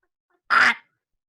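A person imitates a bird call with one short, nasal, duck-like quack, loud and close against silence.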